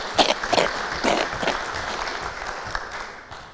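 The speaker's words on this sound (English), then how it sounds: "So give them another round of applause," Audience at a club meeting clapping in a brief round of applause, a dense patter of hands close by that fades slightly toward the end.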